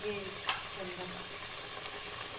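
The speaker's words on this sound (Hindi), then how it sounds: "ये मसाले हम इसके अंदर डाल देते हैं सारे, भूनेंगे कितना इतना भूनेंगे कि इसका ऑयल सेपरेट हो जाए" Spices fry in oil for a fish curry, giving a faint, steady sizzle with light stirring and a soft clink, heard at a distance under quiet background noise.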